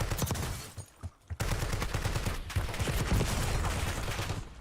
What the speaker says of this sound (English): We've got a team of 2 shooting at each other.